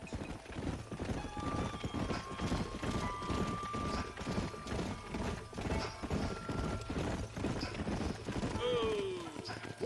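Horses galloping across rough Western terrain in Red Dead Redemption, a steady rapid clip-clop of several mounts close by under riders' talk, with a horse whinny near the end.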